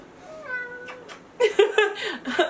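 A cat gives a drawn-out rising meow, then several shorter, louder meows and chirps follow in quick succession, close and clear with no talking over them.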